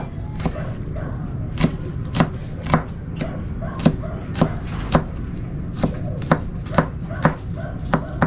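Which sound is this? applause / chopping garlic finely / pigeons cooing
chopping garlic finely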